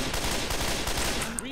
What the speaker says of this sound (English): why the hell do you keep shooting me there?